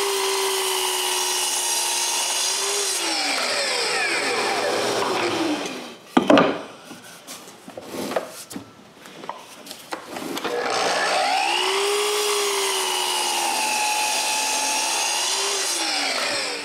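Walnut pieces cut against a stop block on a power saw: a steady loud whine runs alone, breaks into several short harsh cutting bursts midway, then the motor's drone returns and winds down at the end.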